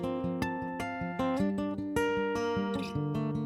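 Acoustic guitar recorded direct through a DI, dry and close with no room sound, playing a rhythmic pattern of plucked notes and chords with sharp attacks over a steady low bass line.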